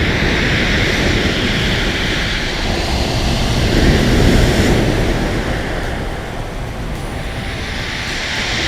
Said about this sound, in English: it is a bit rough down there, the waves are a bit rough